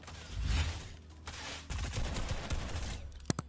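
Rapid bursts of gunfire in the Fortnite video game, dense and continuous for several seconds and ending in a few sharp separate cracks, heard without any talk over it.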